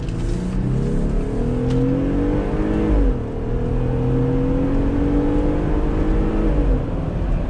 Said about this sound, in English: I'm gonna go ahead and get on it just to see a little bit of acceleration